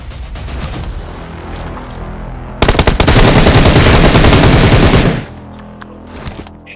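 Automatic gunfire in the mobile shooter Battlegrounds Mobile India, fired near Pochinki: a loud, rapid burst lasting a few seconds that starts suddenly and cuts off, with quieter game ambience before and after.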